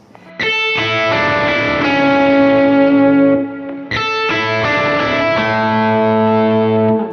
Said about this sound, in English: if I just roll my volume back up and then switch over to my bridge pickup